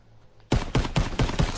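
Semi-automatic gunfire in Call of Duty: WW2, five loud, sharp shots fired in quick even succession after a brief near-silent lead-in.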